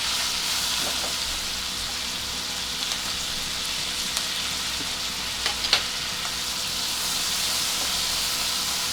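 Chopped onion hitting hot oil with garlic already browned, for a burnt garlic mushroom rice, giving a dense, constant sizzle close by with occasional small clatters of a spoon, no talking.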